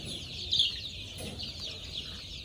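Chickens on a poultry farm clucking and calling softly at a distance over a steady background hum, with one brief louder squawk.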